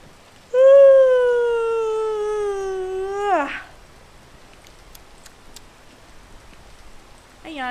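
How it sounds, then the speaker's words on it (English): A person lets out a loud, drawn-out voiced yawn that holds a steady tone for a few seconds before sliding downward and breaking off. Quiet follows, then another yawn begins at the very end. "I yawned."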